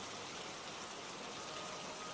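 Heavy rain pours down in a steady, dense hiss at night, an unbroken wash of falling water that stays constant and fairly loud with no voices over it.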